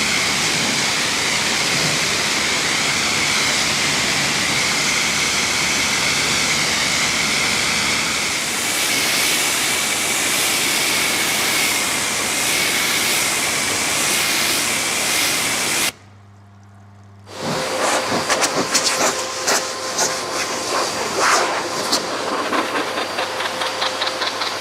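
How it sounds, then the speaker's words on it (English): A pressure spray of water beats steadily onto a dirty car during a hand wash, a loud continuous hiss that stops abruptly, then resumes with a rougher, spattering texture. "Just look at the water beating on this thing."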